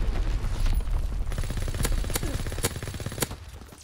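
Gunfire in a WWII first-person shooter game: a loud, dense rattle of rapid automatic shots with several sharp individual cracks standing out, all close and continuous, no voices.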